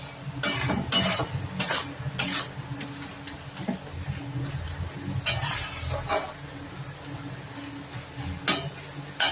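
Spiced goat head curry is stir-fried in a pan, with bursts of scraping and stirring against a low sizzle that pause and resume several times, and no speech.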